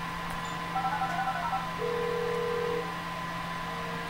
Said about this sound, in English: I'm making a call.